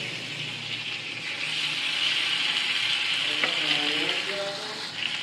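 A piece of tandoori chicken sizzles on a pan during outdoor camp cooking, producing a loud, continuous frying hiss that swells slightly partway through, with a few soft clinks near the end.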